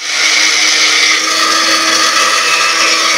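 Roasted coriander and fennel seeds ground in an electric grinder, a loud, continuous high-pitched whir held steady at close range for a few seconds.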